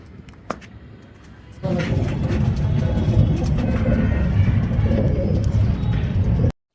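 Racing pigeons at a loft coo and flutter amid a steady outdoor bustle, with a louder burst of activity starting partway through and continuing until a sudden cutoff near the end.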